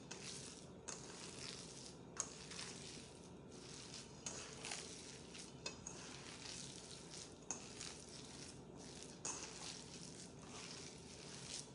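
Food fries and sizzles steadily in a pan while a utensil stirs and scrapes through it, with a continuous hiss broken by regular sharp clinks against the pan, close and moderately quiet.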